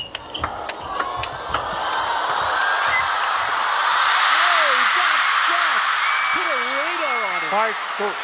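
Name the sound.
table tennis crowd cheering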